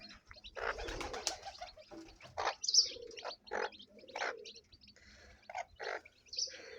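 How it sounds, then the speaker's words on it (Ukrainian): Pigeons coo and chirp around the listener, flying overhead toward feed, with soft wingbeats and fluttering now and then among busy, moderately loud bird calls. "голуби літають над головою, все все хочуть сюди злетіти до до корму"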